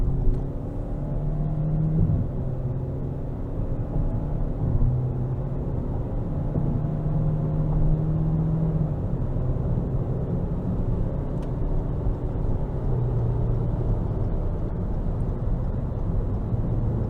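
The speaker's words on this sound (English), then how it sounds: "We'll give it some throttle coming down on the interstate here." A 2022 Toyota Corolla LE under throttle on an interstate, heard from inside the cabin as a steady low engine and road rumble with a gently rising drone, continuous and moderately loud, without talk.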